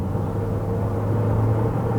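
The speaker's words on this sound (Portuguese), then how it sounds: "vou reduzir a velocidade aqui para 60 e vou acelerar tudo até 120" Chevrolet Equinox Midnight with a 1.5 turbo engine under hard acceleration from 60 km/h, giving a steady, loud low engine drone and road rumble without pause.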